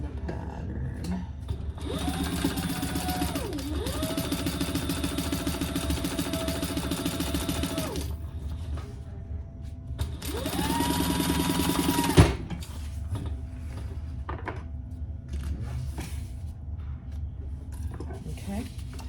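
A sewing machine top-stitches a bag seam in two loud steady bursts with a whining motor, separated by a brief pause, then stops; a sharp click follows and quieter handling noises continue.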